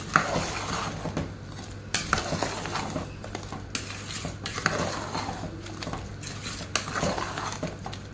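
Tomato puree is stirred into a curry in a pan, with repeated scraping and clanking utensil strokes over a soft sizzle and a steady low hum, close by.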